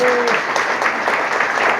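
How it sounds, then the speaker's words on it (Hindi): Loud applause from an audience closing a session, a dense steady wash of clapping throughout with a brief voice at the start. "तो जो पार्ट एक बार जोरदार तालियां बजा दीजिए, क्लोज करने के लिए"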